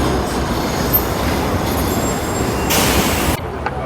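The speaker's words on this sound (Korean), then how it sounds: "아, 이제 전철 타고 집을 가볼까요?" A subway train running on a metro line in Eastern Europe, a loud, dense rumble of wheels and carriage noise with a brief high squeal near the end before the sound drops off.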